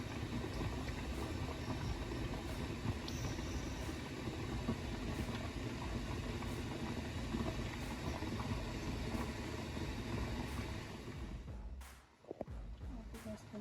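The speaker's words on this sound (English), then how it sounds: "This means that there's steam coming out of that." A pressure canner vents a steady, loud hiss of steam continuously for several seconds while canning bone broth, then the hiss abruptly drops away near the end with a few clicks.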